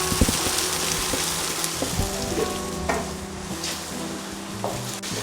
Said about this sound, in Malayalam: എന്നിട്ട് നല്ലോണം മൂക്കുന്ന വരെ ഹൈ ഫ്ലെയിമിൽ